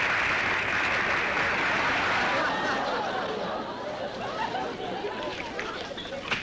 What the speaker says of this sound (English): A thunderous applause I received last night. I recorded it.